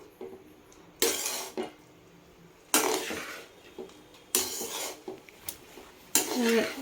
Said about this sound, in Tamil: கொத்தமல்லி தழையை தூவி விட்டு லைட்டாக கலக்கிக்கிங்க